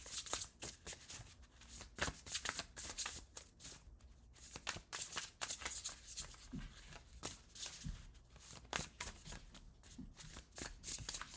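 Tarot cards are reshuffled by hand in a steady run of quick, crisp riffling and flicking bursts, close and fairly quiet, with no voice over them.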